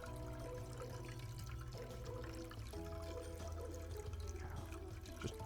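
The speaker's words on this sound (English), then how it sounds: "God, you really can pour that." Liquid chocolate pours in Chocolate Factory Simulator as a steady, continuous liquid stream under a constant low machine hum, with no talking.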